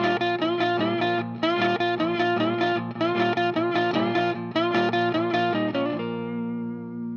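A blues lick played on electric guitar, with rhythmic double-stop bends repeating in a steady shuffle before the final chord rings out and fades.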